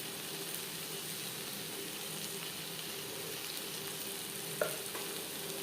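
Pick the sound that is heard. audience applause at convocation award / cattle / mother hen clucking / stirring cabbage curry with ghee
stirring cabbage curry with ghee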